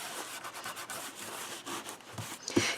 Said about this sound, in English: if there's any wrinkles, you can just use your finger and get it out.